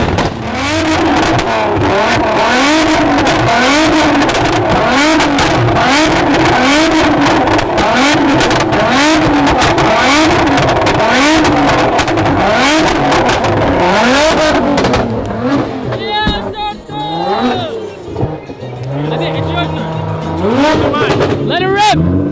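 Straight-piped Lamborghini Aventador SVJ V12 revving hard and loud up close, rapid repeated climbing and falling revs for about fifteen seconds, then settling into a rougher burbling idle with short blips, with a person's voice over it.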